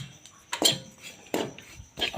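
A spoon clinks and scrapes against a pan three times while powdered sugar is stirred into homemade panjiri, each stroke brief and close, with quiet pauses between.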